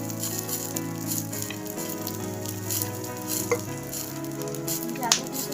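Spices for kathachi amti roasting in a pan alongside already-roasted coconut give a steady soft sizzle with occasional sharper crackles and stirring scrapes, close and continuous with no talking.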